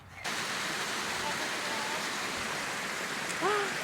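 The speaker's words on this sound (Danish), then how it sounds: "Mini-vandfald." A small waterfall on a Blue Mountains bushwalk gives a steady, close rush of falling water that fills the scene throughout, with a brief bird call near the end.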